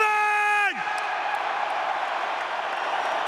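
A huge stadium crowd of about 60,000 roars and cheers at a heavyweight boxing event in Tottenham, London, a dense sustained wash of noise that follows a brief sung or shouted tone.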